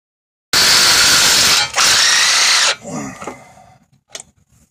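A power tool whines loudly in two bursts with a short break between them while removing the brake caliper on a Volvo S80, then clicks and clunks of handling follow more quietly.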